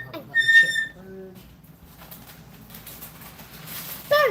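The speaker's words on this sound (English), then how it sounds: "Too noisy, bird." A pet bird at home whistles and chirps in a few clear tonal bursts near the start, then again briefly at the end, against a quiet kitchen background with no speech.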